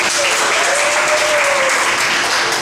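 Loud, sustained audience applause greets architect Rizalito Mercado as he is welcomed to speak at a University of Santo Tomas event, an even roar of many hands clapping close by.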